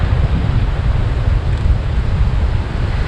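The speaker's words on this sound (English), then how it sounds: "Ooh, that wind. It's a whipping." Hard wind whips across an open beach at Hunting Island State Park, a loud, constant buffeting roar battering the microphone, with surf blended into the rumble and no talking.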